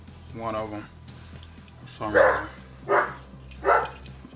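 A dog barks indoors, three loud barks in an uneven rhythm, while someone speaks calmly nearby.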